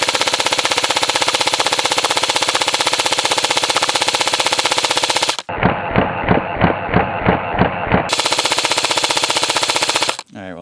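Airsoft electric gun fires full auto at an apple. A rapid, steady mechanical buzz rattles on for several seconds, breaks into a burst of separate sharp cracks and impacts, then resumes briefly. Loud and close.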